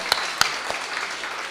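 Brief scattered hand claps from an audience at a live charity event in Johannesburg, a few sharp claps early then fading into light, thin applause over room noise.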